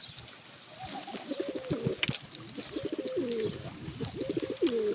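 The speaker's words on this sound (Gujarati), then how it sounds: "શિવાભાઈ આયા નોખા ખોખા લઈને જો કબૂતર પકડવા." On a farm, pigeons coo in a run of looping, throaty calls that grow more frequent toward the end, mixed with soft chirps and a brief rustle.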